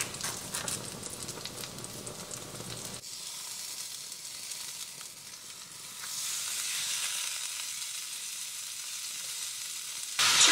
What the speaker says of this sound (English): So that can be boiling while we get our ground beef cooking.